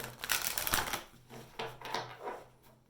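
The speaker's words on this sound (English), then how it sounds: "Okay, one more shuffle." A tarot deck being shuffled up close, with quick clattering bursts of cards sliding and tapping together in two main surges, gradually fading toward the end with a faint low hum underneath.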